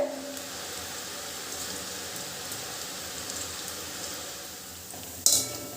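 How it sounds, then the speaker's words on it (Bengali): Pieces of semolina dough deep-fry in oil over low gas, a soft, even bubbling hiss held at a steady low level, ending with a brief sharp clatter. "এরকম সাদা সাদা করে ভেজে নিতে হবে"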